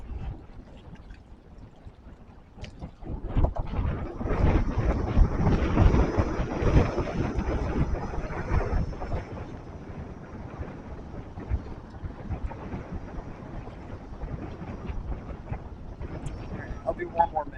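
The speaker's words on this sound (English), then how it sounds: "I'm just out here to see if I can get interesting wind gusts" Gusty winter storm wind rumbles and buffets the microphone in an open area, swelling loudest in the middle and easing to a steady rush, with a voice speaking faintly underneath at times.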